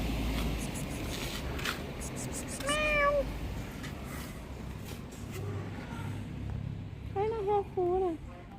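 A cat meows twice, short rising-falling cries a few seconds apart, heard up close in a rainy-season setting in Hua Hin, Thailand, with people talking nearby and traffic rumbling steadily in the background.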